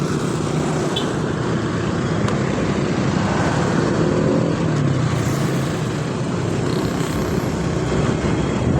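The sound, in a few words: heavy night traffic of cars and motorcycles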